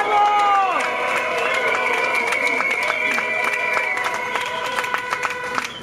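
Crowd applause and cheering at an outdoor Monday protest against Stuttgart 21, clapping and whistles beneath a prominent droning tonal sound, with raised voices mixed in.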